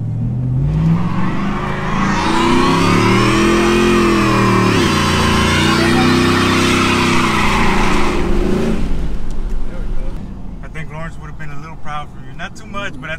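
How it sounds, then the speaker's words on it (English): A pickup truck engine with a Corsa exhaust revs hard and steadily for several seconds during a burnout, rising and falling in pitch, then drops off as voices talk over the idling rumble. "so this thing does burn out"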